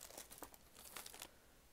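A paper bag crinkles and rustles in a run of faint, quick crackles that rise in the middle and then thin out, close by and quiet, with no talking.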